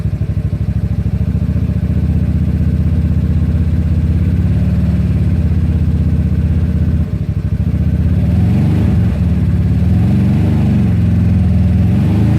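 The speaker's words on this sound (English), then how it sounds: "Hear the engine roaring?" A GY6 scooter engine runs loudly and continuously up close, droning and rumbling steadily with slight changes in pitch as it revs.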